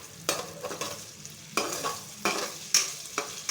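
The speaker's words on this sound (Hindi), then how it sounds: "अब हम इसमें प्याज डालेंगे। प्याज को हम तेज़ ब्राउन कर लेंगे।" Onions fry in ghee in a pan, browning over high heat: a sizzle rises in bursts as a utensil stirs and scrapes in roughly half-second strokes, close and fairly loud, with no speech.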